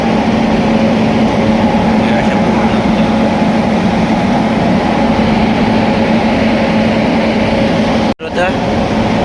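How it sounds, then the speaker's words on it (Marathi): A train runs past below a station platform overpass in a steady, loud rumbling roar with a constant hum, briefly cut off near the end. "म्हणजे इथून रेल्वे चालते आरामशीर"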